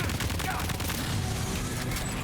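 Dense bursts of gunfire in the video game Death Stranding 2, a loud, continuous crackling volley of rapid shots filling the whole stretch.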